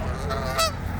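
A goose in the open area outside an old mall lets out a single short, bright honk partway through, heard close by over a low background rumble.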